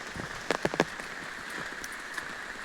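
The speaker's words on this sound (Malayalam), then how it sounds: "നല്ല മഴയാണ്, ഇച്ചിരി മഴ കുറഞ്ഞു" Steady rain falls in a continuous soft hiss, with a quick cluster of sharper, nearer drops or drips early on and a few scattered taps later; no voices.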